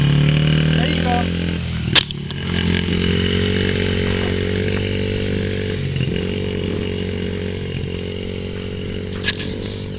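A dirt bike engine drones and revs steadily nearby as the rider rides, a loud, continuous buzzing growl with small shifts in pitch.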